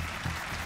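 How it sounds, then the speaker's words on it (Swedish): Crowd applause from the Super Mario Odyssey video game, a brief, steady burst of clapping that fills the clip at a constant level. "Men det är någon som applåderar i bakgrunden bara för att jag tog alla"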